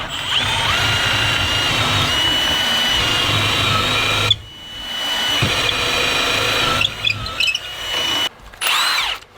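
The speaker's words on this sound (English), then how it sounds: "I'm gonna drill a hole through here." Power drill boring a hole through shed siding trim while a barn door is being added: steady loud whine for about four seconds, a brief pause, then further short bursts of drilling and handling noise.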